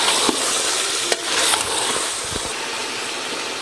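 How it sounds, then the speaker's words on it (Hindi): Spinach mutton curry (palak gosht) being sautéed and stirred in a pot, a steady close sizzle with a few sharp spoon scrapes and clacks against the metal, no voices. "इसकी अच्छे से भुनाई कर लेंगे"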